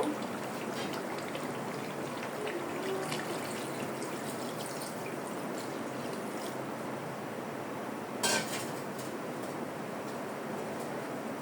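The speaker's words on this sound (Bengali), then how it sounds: "এখন আমি ঝোল দিয়ে দিব" Broth is poured into a pan of Bengali duck curry frying in plenty of oil. A steady watery rush and sizzle continues close by, with a brief clatter near the end.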